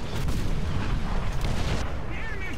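Artillery fire in the War Thunder tank game, with heavy booming blasts and rumbling impacts rolling through a dense, noisy low end over a couple of seconds, followed by a quieter tail.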